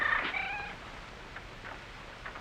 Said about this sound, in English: That's a powerful little cat.